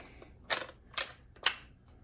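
A Lee Enfield rifle's safety catch and bolt being worked: three sharp, close metallic clacks spaced about half a second apart, with quiet gaps between them and no talk.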